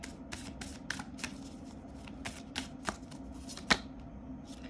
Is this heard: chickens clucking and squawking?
no